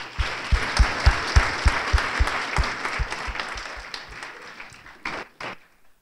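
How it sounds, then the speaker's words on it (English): An audience at a library author talk in Des Moines breaks into applause, dense clapping at first that thins out and fades, with a few last claps near the end. "I think maybe one more round of applause before I go on would be great."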